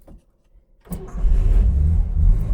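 A 1967 Chevrolet Corvair Monza cranks and fires up after a fuel pump power adjustment, catching abruptly from near silence into a loud, steady idle rumble.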